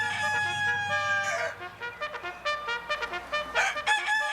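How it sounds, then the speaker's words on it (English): A rooster gives a loud, clear crow up close, followed by a series of short clucks and calls, with no talk. "Let's hear that rooster."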